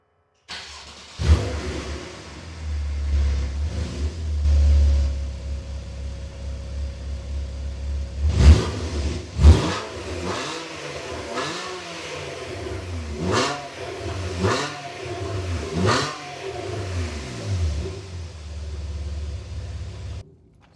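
A Porsche 911 Carrera S engine starts up and revs in a series of sharp, loud bursts, each rising and then dropping back to a rumbling idle between them.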